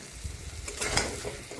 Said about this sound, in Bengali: এখন এই আলু আর ডিম ভেজে রাখাটা দিয়ে দিলাম।